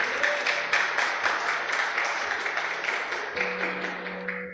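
A church congregation applauds in a steady wash of many hands clapping, fairly distant and even, slowly thinning toward the end.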